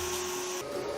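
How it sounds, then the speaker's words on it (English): A Hoover vacuum cleaner in a movie runs with a steady, loud motor whine and broad airflow hiss, the pitch shifting slightly partway through as it keeps droning alone. "She's gone for the Hoover instead."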